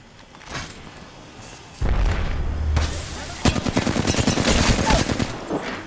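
The Flatline assault rifle fires in Apex Legends: a rapid automatic burst of sharp, loud shots that starts midway and keeps going, preceded by a heavy boom and other game noise.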